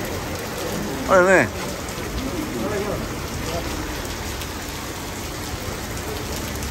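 Steady rain patters and hisses across the whole stretch in São José do Egito in August, with a person speaking briefly near the start over the continuous downpour.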